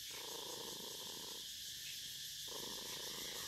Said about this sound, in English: he's purring pretty loud.